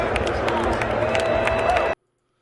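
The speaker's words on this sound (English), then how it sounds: "You can hear the clear boos on the screen" A big football stadium crowd reacting as a player is announced on the jumbo screen, a dense roar of boos and shouting that fills the air at full volume, then cuts off abruptly.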